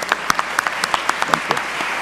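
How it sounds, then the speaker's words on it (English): Audience applause rolls on at a church annual conference plenary session, a steady bed of many hands with a few sharper nearby claps standing out in an irregular rhythm. "if we could please give a round of applause as a thank you for their ongoing work"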